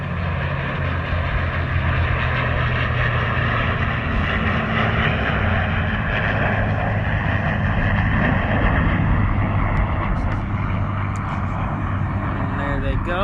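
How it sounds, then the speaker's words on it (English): An F-35A jet and a P-51 Mustang fly at the New York air show, and their engines make a steady broadband roar that continues without a break. Crowd noise and a commentator's voice run underneath. "It is the F-35 and P-51 Mustang."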